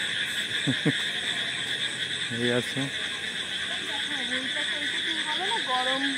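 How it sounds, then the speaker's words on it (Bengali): Frogs croak all around a flooded park, with repeated chirping, rising calls and steady trilling from many animals. Brief voices talk over the chorus. "চারিদিকে ব্যাঙের কিচিরমিচির আওয়াজ।"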